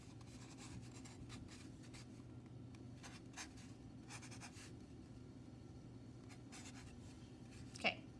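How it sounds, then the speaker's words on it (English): Silver Sharpie marker writing a name and class code on the back of a tray, faint scratchy strokes repeating in short bursts at close range, with a quiet steady hum behind. "we're going to take a silver Sharpie and we're going to write our name and our class code on the back"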